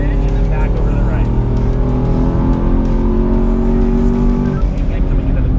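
A race car accelerates hard out of a corner on a closed circuit at Spring Mountain Motor Resort, engine loud and steady with rising harmonics over the full stretch, tires faintly squealing beneath.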